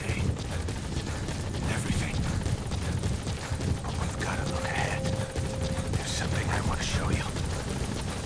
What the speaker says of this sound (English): Chopper's up there